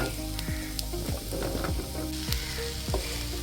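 Milky mushrooms are dropped into a tomato masala and fried, crackling and sizzling steadily, with a few sharp stirring scrapes against the pan.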